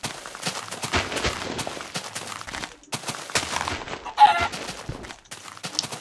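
Chicken clucks and squawks from the video game Minerraria, a dense, jumbled stretch of fowl calls with clattering game noise mixed in, fairly steady and close.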